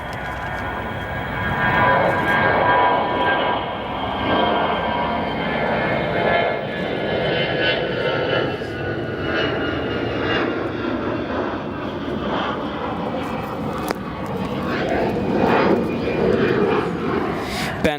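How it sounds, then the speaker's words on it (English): A 24-year-old Alaska Airlines Boeing 737-700 jet arriving at Chicago O'Hare from Portland, a loud sustained engine roar that swells and fades across the whole stretch, steady and close. "That Alaska Airlines 737-700 arrived in from Portland, 24 years of age, Alaska flight 324"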